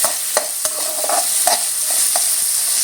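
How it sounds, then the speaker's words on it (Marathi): Chopped onion is stirred and sautéed in a pan, a steady close sizzle broken by repeated scraping and clinking of the spoon, with no voices. "कांदा छान परतून घ्यायचा आहे आपल्याला कलर चेंज होईपर्यंत"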